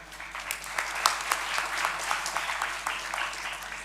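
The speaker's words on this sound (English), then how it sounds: "a big round of applause for this incredible panel that we have here" An audience applauds a panel at a university event, giving a moderate round of clapping with scattered distinct claps that holds steady throughout.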